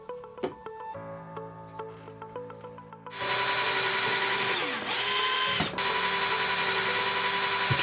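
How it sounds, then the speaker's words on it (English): A power drill drives screws into a wooden bird table roof. Light clicks and taps come first, then a long, loud, close whine of the motor with a brief dip in pitch as the screw bites, continuing steadily to the end. "Drill holes for the roof and attach the roof with the screws."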